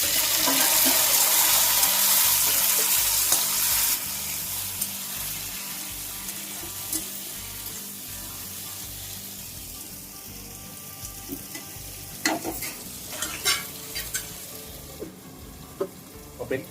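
Tomatoes go into a pan of reddened, frying onions while cooking a taro-leaf vegetable dish: steady sizzling and frying with stirring scrapes, then quieter bubbling broken by a few sharp clinks and bursts.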